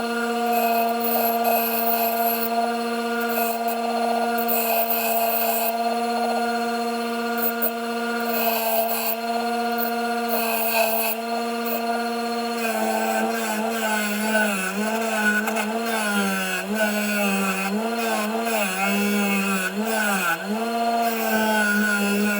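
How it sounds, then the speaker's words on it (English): A small grinder wheel and a wire wheel deburr the edges of metal clock parts in a metal shop, giving a steady, loud high-pitched whine whose pitch wavers and dips as the tool bites into the metal, with no talk. "Got them mostly cleaned up and deburred around the edges. Little grinder wheel, little wire wheel."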